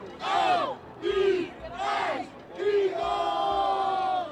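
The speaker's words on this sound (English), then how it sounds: "The crowds are definitely growing as we are watching them flood out into the streets." A large street crowd pouring out in celebration, sending up loud rising whoops and collective shouts in several swelling waves that merge into a sustained roar.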